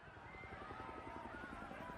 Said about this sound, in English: A multitude of helicopters were in the skies, circling the city like flies.